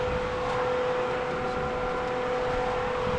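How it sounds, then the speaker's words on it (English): A pool circulation pump runs steadily with a constant mid-pitched motor hum over a soft wash of broadband noise, faint and unchanging throughout. "Hear that sound? That's the sound of our circulation pump working"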